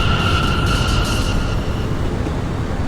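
An R179 subway train on the M line pulls into Knickerbocker Avenue station with a loud, steady roar and a thin, high whine that fades as it slows.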